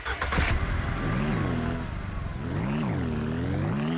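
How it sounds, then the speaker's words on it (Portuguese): A car engine drives up close and loud, rising and falling in pitch as it accelerates and shifts, with a steady rumble throughout and no talking. "então eu vou pegar o carro e trazer aqui"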